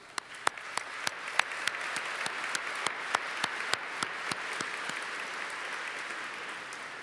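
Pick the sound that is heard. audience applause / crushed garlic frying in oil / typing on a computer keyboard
audience applause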